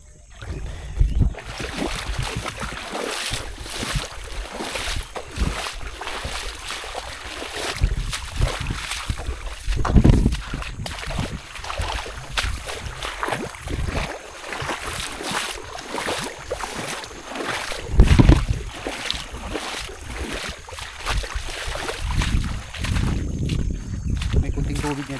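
A small boat moves through shallow water with irregular splashing, sloshing and trickling, interrupted by louder knocks and bumps, while people talk over it throughout.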